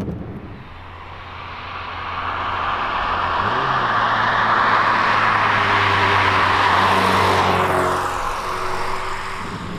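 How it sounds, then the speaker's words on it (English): A Toyota MR2 engine revving while driving, a loud steady droning roar whose pitch rises gradually and then eases off, with road and wind noise underneath. "all I need to do now is sort out that horrible noise from the engine"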